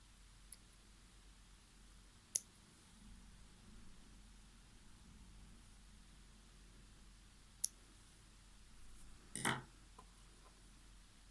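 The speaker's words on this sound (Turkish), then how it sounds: "aralarında ve ortasında hafifçe tutarak makasımızdan kesiyoruz." Scissors snip the thread of handmade needle lace flowers, making three sharp, isolated clicks spread over a quiet hiss, the last one slightly longer.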